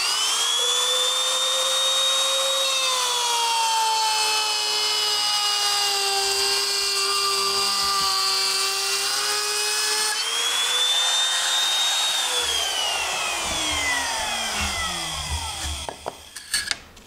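A handheld trim router cuts through a piece of wood with a loud, sustained high-pitched whine for about fifteen seconds. The pitch sags under load and rises again, and the motor winds down with a few knocks at the end.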